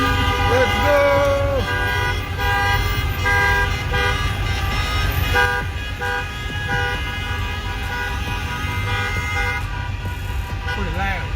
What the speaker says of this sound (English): You gotta get one of these dudes to beat their horn.